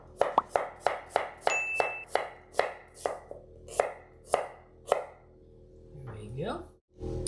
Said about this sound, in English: cut an onion